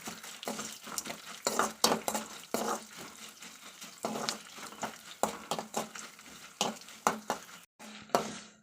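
Guntur and Byadagi chillies with curry leaves frying in oil in a pan, with repeated stirring scrapes and clinks of a utensil over a soft sizzle, close and steady.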